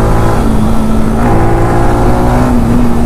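A motorcycle engine revs under acceleration on an evening ride, a loud, steady, throaty drone that climbs slightly in pitch and stays close and continuous throughout.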